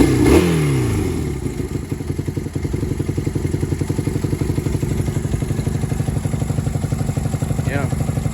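A 1974 Honda CL175 Scrambler idling with no choke after a start-up clatter, its twin-cylinder engine settling into a fast, even, close-up putter that runs steadily throughout.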